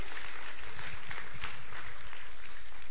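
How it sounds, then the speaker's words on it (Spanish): Congregation at a church service clapping together, a dense steady patter of hands at moderate distance with no voices over it. "Denle un aplauso al Señor"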